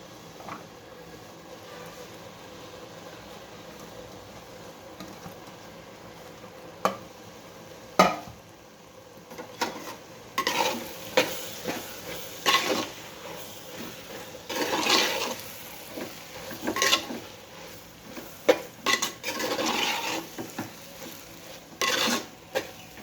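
Cabbage tipped into a pan of moong dal and stirred, giving a soft rustle followed by scattered clinks and scrapes of a spoon against the metal pan, louder and busier in the second half.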